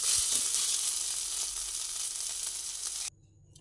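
Chicken pieces sizzle in a wok over lowered flame, a loud, close, steady frying hiss that cuts off abruptly near the end, leaving a faint quiet hum.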